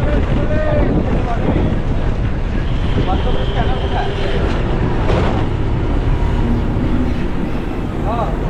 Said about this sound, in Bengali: পুরীর সমুদ্র একবারে উত্তাল উত্তাল জলরাশি আছড়ে পড়ছে পুরীর এই সমুদ্র বিচে।